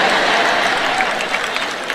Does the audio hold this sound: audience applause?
yes